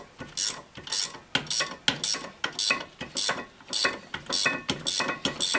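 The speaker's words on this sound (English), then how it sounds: "Now I'll use a ratchet wrench." A ratchet wrench loosens brake bolts on a 2009 Pontiac Vibe, close and loud rapid clicking strokes in a steady repeating rhythm, with no talking.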